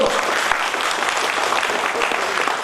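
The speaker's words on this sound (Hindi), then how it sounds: "जबरदस्त ताली आप सभी के अवसर को" A seminar audience on healthy living claps loudly and steadily, a dense, even wash of many hands that holds at the same level throughout.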